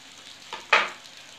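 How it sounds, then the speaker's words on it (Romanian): Patties fry in butter in a pan, giving a soft steady sizzle with a brief louder hiss burst midway, close and alone with no talking. "Se aude cum sfârâie de la unt."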